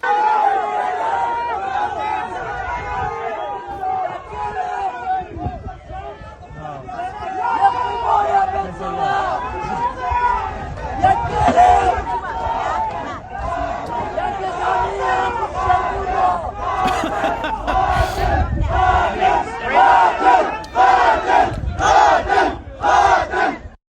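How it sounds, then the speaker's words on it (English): A large Druze crowd in Majdal Shams in the Golan Heights jeers, boos and shouts angrily at Netanyahu. The yelling is loud, dense and continuous, with overlapping cries that swell and peak throughout. "you see Netanyahu being jeered and booed and chased away by the Druze community in the Syrian Golan Heights in Majdal Shams"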